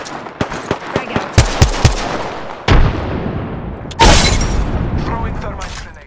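A frag grenade detonates in the video game Apex Legends, preceded by a rapid string of sharp gunshots, then two loud, close broadband blasts a second apart, each trailing off into a long rumbling, hissing decay.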